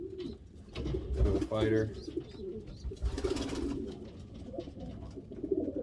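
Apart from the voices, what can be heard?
pigeon cooing in breeding loft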